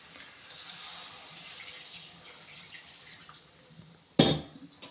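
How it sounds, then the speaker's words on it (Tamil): Water is poured into a pot of chicken curry on the stove, a soft trickle that ends in a brief louder splash. "இப்போ வந்து தண்ணி வந்து சேர்த்துக்கலாம்"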